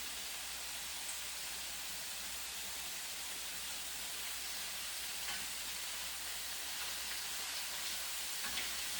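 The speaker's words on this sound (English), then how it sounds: "I'm going to turn the tofu to cook the other side." Tofu sizzling in a hot pan, a steady broad frying hiss with faint crackles and a few small pops, continuous and close, heard alone.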